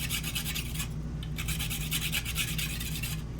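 Onion being grated by hand into a tomato and tuna stuffing in an RV kitchen, giving a steady run of rasping strokes close up with no talk.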